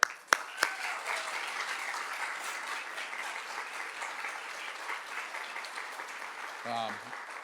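Sustained audience applause for an honoree at a women's sports breakfast in Central Florida, dense clapping from a large crowd beginning with a couple of sharp claps and holding steady, with voices mixed in.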